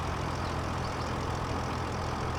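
A tractor engine in Farming Simulator 25 drones steadily at a low, even pitch, running alone without talk.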